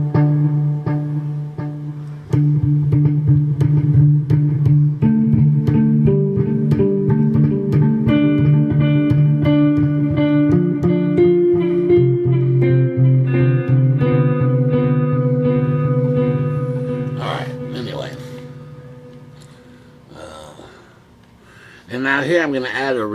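Guitar played through an inexpensive delay pedal, picked notes ringing out with repeating echoes that trail and overlap, ending in a few sparse plucks and handling noises.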